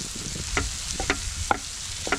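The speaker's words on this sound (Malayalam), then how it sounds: "മുളക് പൊടി ചേർത്തിട്ട് ഒന്ന് വഴറ്റി കൊടുക്കാം" Sliced onions sautéed with chilli powder in a pan, with a low sizzle under four or five sharp scraping strokes of a spoon against the pan, close and fairly loud.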